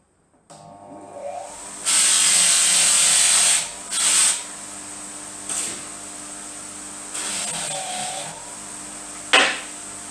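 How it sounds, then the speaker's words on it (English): A motorized buffing wheel freshly charged with rouge spins up and whines in several bursts during restoration work, with pauses between passes as metal is pressed against it. "put fresh rouge on, and then I'll start buffing"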